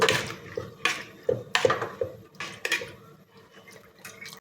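A spoon mixes peas with salt and turmeric powder inside a pressure cooker. About half a dozen rhythmic metallic clinks and scrapes sound close up, fading to softer stirring at the end.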